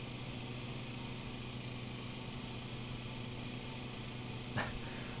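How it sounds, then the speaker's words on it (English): Lawn mower engine in Lawn Mowing Simulator drones steadily and evenly at moderate volume, a continuous motor hum with a brief click near the end and no speech. "We're doing our lawn mowing."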